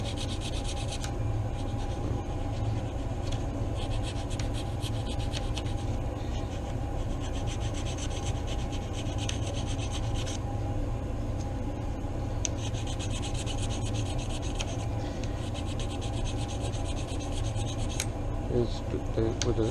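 A flat tool rubs and rasps steadily against a straight-grained hardwood net needle for a cast net, giving a close, continuous scratchy sanding sound that runs the whole time with small changes in strokes.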